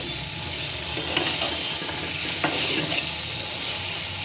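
Taki fish fries with spices in hot oil, giving a steady close sizzle with a few scraping stirs now and then, and no voices.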